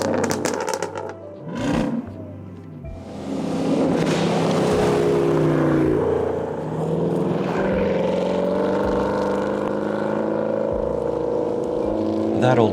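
A 2024 Land Rover Defender's supercharged V8 roars through its exhaust, a loud rising rev that swells and holds, then settles into a deep sustained drone with a brief sharp blip near the start.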